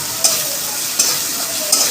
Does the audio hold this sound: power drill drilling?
no